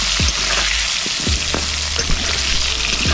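Potatoes frying in hot oil with salt and turmeric, a steady close sizzle with a few soft clicks of a utensil against the pan, no voices.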